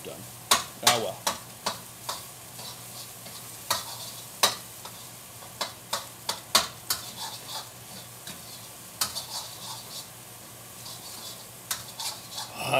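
Cold rice frying in a hot wok and being chopped apart, sharp tapping and scraping hits landing irregularly over a faint, constant sizzle.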